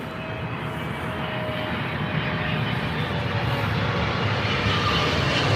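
Steady broadband roar of a Saudi Boeing 777 heavy jet at Heathrow, continuous and fairly loud throughout with a faint tonal whine and no voices.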